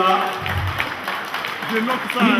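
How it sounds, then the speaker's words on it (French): Audience applause at a French charity solidarity gathering, a spread of clapping under a loud announcer voice that carries on talking throughout. "On acclame pour l'association"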